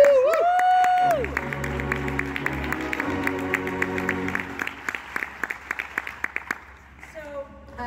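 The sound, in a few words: audience applause for filmmakers at a film festival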